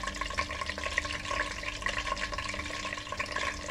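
Crushed garlic cloves sizzling and crackling in hot oil while cooking Jamaican-style fried lobster, a steady, busy fry close by with no talking.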